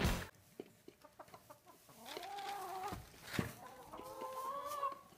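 Hens clucking nearby: a run of short, choppy clucks gives way to drawn-out, wavering calls, clear and alone with no voices.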